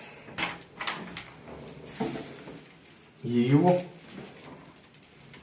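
Butterfly-style car door hinges, freshly greased with lithium grease, give a few short creaks and clunks as the door swings, followed by a longer, louder low creak near the end, with a brief voice murmuring alongside.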